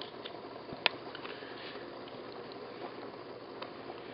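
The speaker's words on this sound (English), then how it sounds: "it's boiling off the water" Water boils off inside the core of a ThermoVape portable vaporizer sitting on its base, a faint steady fizzing and crackle with one sharp tick near the start.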